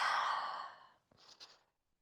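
A long audible exhale during a yoga exercise, a soft breathy rush that fades over about a second, followed after a brief pause by a quieter second breath with faint mouth noise, close and alone.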